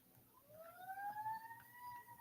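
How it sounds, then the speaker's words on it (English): A siren wails at a distance, its rising, wavering tone sweeping up steadily over a low background hum. "Oh, I hear sirens out there."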